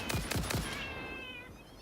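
Several short cat meows from the game Satisfactory arrive in quick succession, faint and close together, then fade into a quiet tonal hum with no talking.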